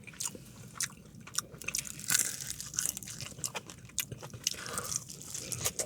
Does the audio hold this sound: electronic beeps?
no